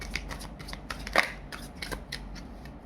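Tarot cards being shuffled and drawn, with soft, faint papery riffles and flicks coming in short repeated bursts, one slightly sharper snap among them.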